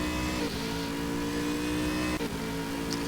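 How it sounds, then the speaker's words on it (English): GT3 race cars battling at the Red Bull Ring in Stock Car Extreme, a loud sustained engine whine with shifting pitch as cars jostle, brief gear-change dips, no voices over it. "Look at all the cars battling now."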